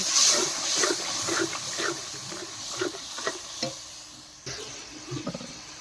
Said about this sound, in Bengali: দিয়ে দিচ্ছি একটু জল মশলাটাকে কষিয়ে নেওয়ার জন্য মশলাটাকে কষিয়ে নিচ্ছি